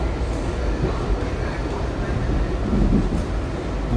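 A train runs on a rail line near the Greenbelt side toward Ranch Avenue and Huntington, giving a steady low rumble and rail noise throughout, with a person talking over it.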